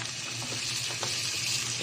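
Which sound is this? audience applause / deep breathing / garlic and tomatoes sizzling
garlic and tomatoes sizzling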